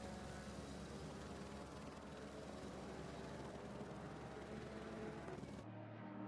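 A helicopter over the Spa-Francorchamps race track gives a steady, distant broadband drone with faint rotor chop, continuing evenly for several seconds before cutting off.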